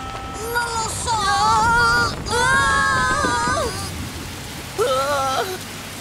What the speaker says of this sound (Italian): La pioggia sembra non voler smettere.